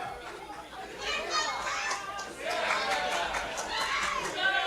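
A video game wrestling crowd jeers a wrestler named Davina, a loud roar of overlapping shouts and chatter that swells and surges in waves.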